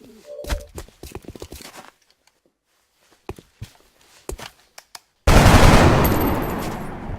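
Gunfire in the XCOM Long War video game: a burst of rapid shots early on, a few scattered single cracks, then a loud sustained roar of fire in the final seconds.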